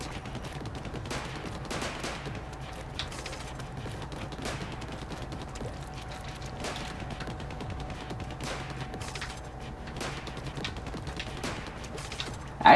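Splattershot ink weapon firing in Splatoon 2 (Octo Expansion), a steady run of rapid, evenly spaced shots over game ambience, fairly loud and continuous throughout without talk.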